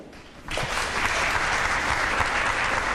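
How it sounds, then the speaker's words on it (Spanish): Audience at a public talk about the Alto Maipo project bursts into applause for the next speaker, starting abruptly from a quiet room and holding as a full, steady roar of clapping. "Un gran aplauso a Marcela Mayor."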